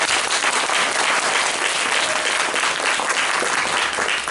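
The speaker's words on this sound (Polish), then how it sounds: "Wielkie brawo!" An audience at a theatre performance by a university of the third age theatre section in Płock applauds loudly and steadily, a dense wash of clapping that fills the whole stretch without pause.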